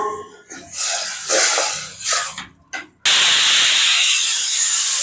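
A pressure cooker steams while cooking bottle gourd kootu with moong dal, releasing several loud, close hissing bursts before breaking into a sustained, forceful whistle-like hiss.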